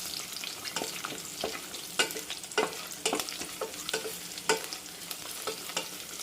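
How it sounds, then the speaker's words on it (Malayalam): Cashew nuts frying in a pan for pongal, stirred steadily, with dense crackling sizzle and repeated sharp scraping clicks of the spoon against the pan at close range, no voices. "നല്ലപോലെ ഒന്ന് ഇളക്കി കൊടുക്കണം"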